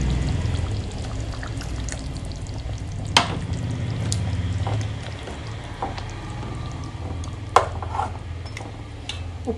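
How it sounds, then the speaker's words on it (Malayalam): Water from rinsing a mixer jar is poured into a coconut curry cooking in the pan, making a steady pouring hiss through most of the clip, with two sharp clinks and no talking. "വെള്ളം കുറച്ച് കൂട്ടുന്നുണ്ട്"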